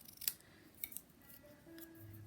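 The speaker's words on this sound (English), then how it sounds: "And then we're going to cut this bottom edge." A few quiet, crisp snips of scissors cutting paper for a card tag, close by, with soft rustling between them.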